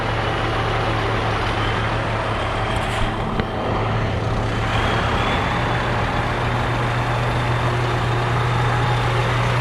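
A rice combine harvester works a paddy field, its engine a loud, steady drone with a constant low hum running unbroken from start to finish, close by.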